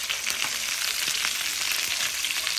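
Chicken frying without oil in a Saladmaster 12-inch oil core skillet gives a steady, loud, hissing sizzle with scattered crackles and pops, and no talking.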